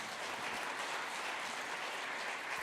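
Audience applause fills a church hall during an autumn-evening book-reading concert at Cheongdam-dong Catholic Church. The clapping is dense and steady, sustained evenly throughout with no voices on top.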